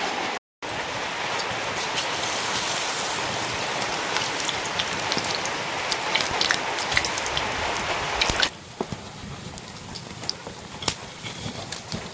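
Malpua batter hisses and crackles loudly in hot oil, a dense steady sizzle with scattered pops, easing somewhat toward the end.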